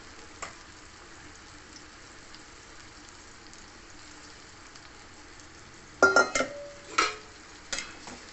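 Ingredients for a jaggery mango pickle fry quietly in a small pan, a soft steady sizzle with a few louder stirring scrapes near the end.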